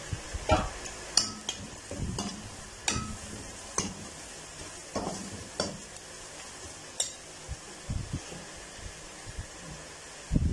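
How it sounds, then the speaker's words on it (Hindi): Turmeric powder, salt and other spices roast in a pan for baingan bharta, with a faint sizzle under a series of distinct spoon scrapes and knocks that come every second or so. "मसालों को हम 30 सेकंड के लिए जो है भून लेंगे"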